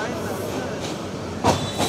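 A train rolls into Dhaka Airport station, a loud, steady rumble of wheels on rails close by, with a couple of brief clacks and squeals near the end.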